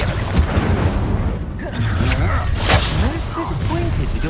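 In Hogwarts Legacy, a Bombarda spell blasts with heavy booming explosions and crashing debris amid a cluttered, loud mix of spell effects, a voice calling out over the combat.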